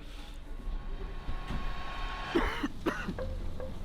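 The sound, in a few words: man coughing in the cold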